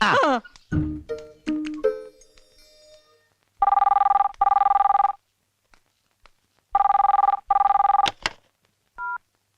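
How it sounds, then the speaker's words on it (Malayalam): A telephone rings in two loud bursts of double rings separated by silence, after a quick flurry of tones and clicks at the start. "സുഷമേ, ദേ ഫോൺ."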